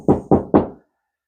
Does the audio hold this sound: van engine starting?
no